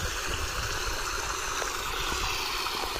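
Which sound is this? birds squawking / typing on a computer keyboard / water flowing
water flowing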